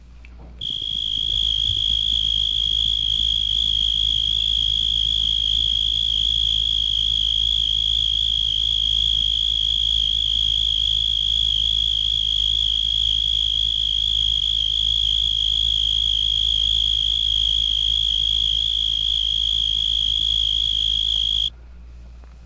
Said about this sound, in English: This is Oecanthus nigricornis, called the blackhorn tree cricket, although it's always found on coarse weeds.